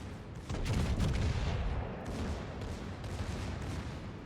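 Bismarck's secondary batteries in World of Warships pound away in rapid, overlapping gunfire, a loud sustained barrage with sharp individual reports and heavy low rumble, no voices over it.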